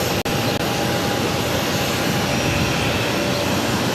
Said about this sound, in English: 737-800 taking off to San Francisco, Alaska Airlines, 357.